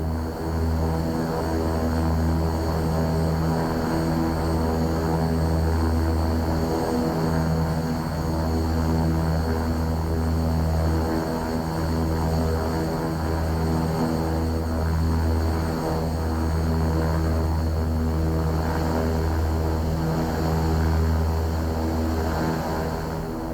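A King Air 350 turboprop taxis in X-Plane 11 with its engines droning steadily and loud throughout, a constant propeller hum with a slow pulsing beat and no talk.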